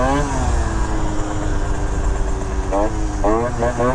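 Piaggio Typhoon scooter engine running loud and close, a buzzing two-stroke drone with quick rising revs near the end, blended with a voice or noise over it.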